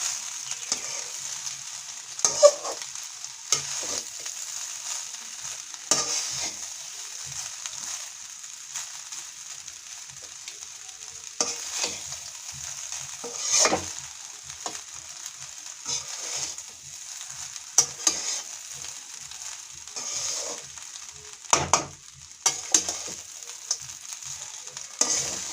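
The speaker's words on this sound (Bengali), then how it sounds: "ভালো করে নাড়াচাড়া করে নেব।" Mango rice with raw green mango being stirred in a pan over a village-style cooking setup, a soft steady sizzle broken by scattered scraping and stirring scrapes, fairly quiet and without talk.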